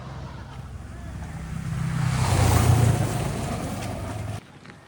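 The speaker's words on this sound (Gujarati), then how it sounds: "ત્યાંથી નજીકમાં એક દરિયા કિનારે છે, ત્યાં અમે અત્યારે જઈ રહ્યા છીએ" Sea waves wash in at a beach near Auroville, Pondicherry, as one broad surge that swells and fades over a few seconds, with steady wind rumbling against the microphone.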